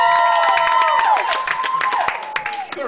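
Live crowd at a spoken word and open mic performance cheering, whooping and clapping loudly, a dense sustained wash of applause with shouts over it.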